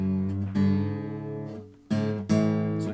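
Guitar in open G tuning with its fifth string being tuned back up to A: two or three plucked, ringing string notes that sustain and decay, close and alone.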